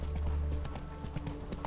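Horse hooves clip-clop in The Witcher 3, the steady rhythmic beats of the horse Roach close and clear over game ambience for under two seconds.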